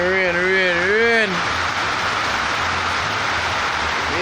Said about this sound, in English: Rain a fall, people.